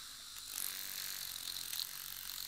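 A repaired hairdryer motor running on a low voltage gives a steady faint high whir with a light rattling buzz, alone and continuous.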